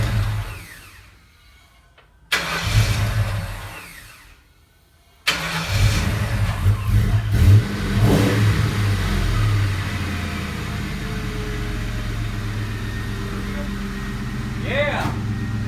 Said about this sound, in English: We're going to start the car and see what this exhaust sounds like.